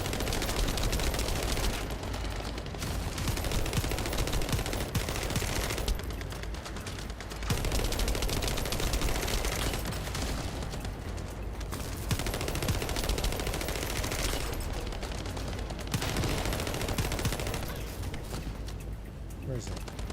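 Sustained rapid automatic weapon fire in the looter shooter The First Descendant, loud and nearly continuous with brief lulls every few seconds, a voice talking over the shooting.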